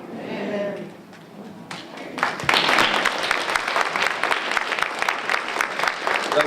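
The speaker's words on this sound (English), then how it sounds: "Let's give Reverend Moore another round of applause for that prayer as well as introduction." An audience at a women entrepreneurs' conference applauds after a prayer, the clapping swelling from scattered claps into steady, dense applause that continues to the end, with a faint voice at the start.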